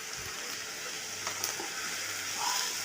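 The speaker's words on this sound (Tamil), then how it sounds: "கட் பண்ணி வச்ச பெரிய வெங்காயத்தை நான் சேர்த்திக்கிறேன் சேர்த்து அதையும் நல்லா ப்ரௌன் கலர் ஆகிற அளவுக்கு நல்லா வதக்கி எடுக்கணும்" Big chopped onions sautéing in a pan until brown, giving a steady, moderate frying sizzle with a few faint stirring scrapes throughout.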